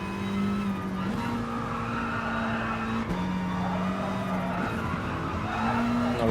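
A Gr.4 race car in Gran Turismo Sport brakes hard and downshifts, its engine note stepping through gears with tire squeal, loud and continuous without any talk.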